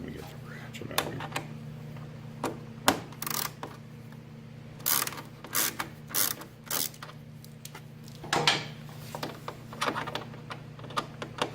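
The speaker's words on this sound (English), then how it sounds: "T25 ratchet. You get in there for clearance. Let me get the ratchet out here." A T25 ratchet clicks and creaks in short bursts while loosening panel bolts on a BMW R1250RT motorcycle, a steady low hum running underneath throughout.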